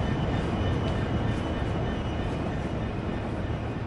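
A train rumbling past in Train Sim World near a route to Lewes, featuring a new-liveried Class 66 diesel; a steady, loud, broad roar holds throughout without fading.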